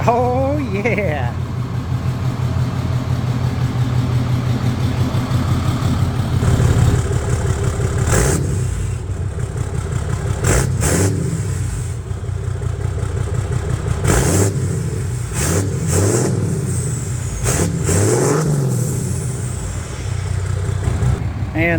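A deep 6.7 Cummins diesel engine in a 5th-gen pickup with a 5-inch delete exhaust idles with a throaty rumble, revving a few times in short bursts; voices talk over it now and then.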